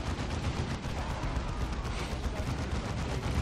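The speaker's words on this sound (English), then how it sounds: "Nice lob of the grenade, and down they go." Grenade blast in the Dawn of War 2 strategy game, heard as a dense, continuous roar of battle noise and explosive crackle that stays loud and steady for the whole stretch, with no voices over it.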